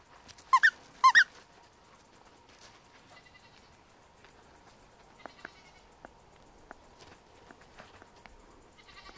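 A puppy and two goats on an off-grid homestead in Spain, with a couple of short, loud bleats or yelps near the start, then faint scattered squeaks and small sounds over a quiet background.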